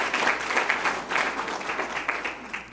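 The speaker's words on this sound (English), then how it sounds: "I will take that applause as long as you realize that it was earned by a lot of people around my table." Audience applause at a public event where a state treasurer is speaking, a steady wash of clapping held at an even level for a few seconds with no voices over it.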